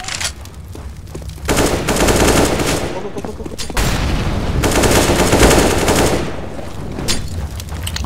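Automatic rifle fire in CS:GO rattles out in long, loud bursts, with a short gap between volleys and another gap before a final burst.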